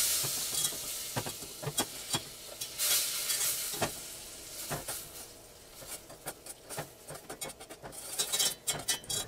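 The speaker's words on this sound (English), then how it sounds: "We'll go ahead and put 1/4 cup of real butter in here and let that melt." A quarter cup of real butter melts in a pan on a stovetop burner, giving a steady soft sizzle with scattered light pops and occasional scrapes, close and fairly quiet.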